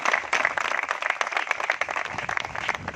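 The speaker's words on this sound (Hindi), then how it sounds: "एक बार आप सभी के लिए जोरदार तालियों से स्वागत होना चाहिए" A crowd at a Nishad Party political gathering bursts into loud, brisk clapping, the individual claps distinct and busy, sustained without a break across the whole stretch.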